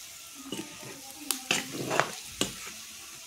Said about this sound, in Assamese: মজাকৈ এতিয়া ধুনীয়াকৈ লৰাই দিছোঁ